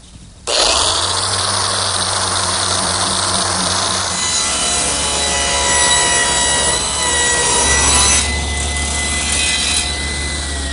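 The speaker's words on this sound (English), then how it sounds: "Now I've switched to my random orbit sander. I'm starting with an 80 grit" A random orbit sander with 80-grit paper starts up and works across a wooden butcher block, giving a loud, steady whirring hum with a gritty rasp that shifts slightly as the sander moves.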